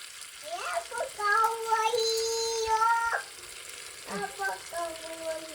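Cluster bean (guvar) curry, Gujarati style, fries in a pan with a continuous soft sizzle, while a voice sounds over it in drawn-out tones.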